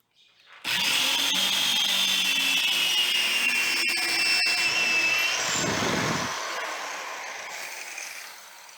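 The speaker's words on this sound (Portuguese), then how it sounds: "E eu vou furar aqui com a mesma broca." A power drill spins up sharply and bores through wood for a wooden gate, a loud, steady whine that holds for several seconds, dips briefly under load, then winds down slowly.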